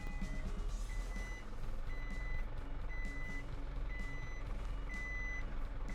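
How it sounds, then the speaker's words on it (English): An Isuzu NPS300 4x4 overlander truck reverses through a factory parking area, its backup alarm beeping in a regular, evenly spaced rhythm over a steady low engine rumble, close and clear. "So we're just reversing under the parking area where this unit was standing."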